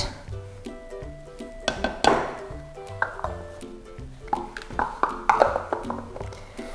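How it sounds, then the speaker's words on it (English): Cookie dough being mixed with flour in a bowl, sounding as irregular clinks and taps of a utensil against the bowl, some sharper knocks, over a steady tonal background. "Mixing, mixing."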